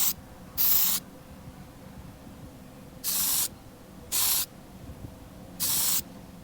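Copper spray paint hisses from an aerosol can onto a Matchbox Lesney Jaguar MK10 toy car in four short bursts of about half a second each, separated by pauses, loud and close with no talk.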